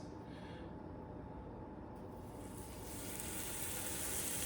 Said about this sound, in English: You hear that sizzle? That's good.